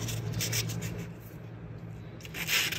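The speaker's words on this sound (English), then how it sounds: "I'm just going to take my little sanding block here" A small sanding block rubbed gently over a dried tin foil craft piece, giving soft, steady scratchy friction with faint bursts of stroking at the start and end, close and quiet with no talking.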